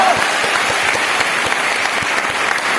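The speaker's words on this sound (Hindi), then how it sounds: "तालियां बजा के बता दीजिए।" An audience at a motivational talk in Patna applauds, a dense sustained burst of many hands clapping at once, loud and close throughout the short stretch.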